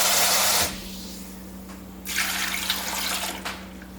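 About 3 cups of water pour into a blender for pureeing coconut cream, giving a close, steady gush. It cuts off, then a second, slightly softer pour follows after a pause, with a faint hum underneath.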